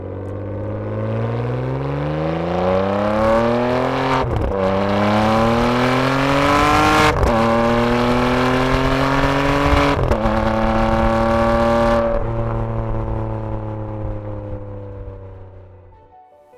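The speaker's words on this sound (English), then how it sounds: "a high-quality soundtrack provided by the V12 engine" A Ferrari 599 GTB's V12 engine revs and climbs through rising pitch sweeps, loud and close, with gear-shift breaks between surges and no talking.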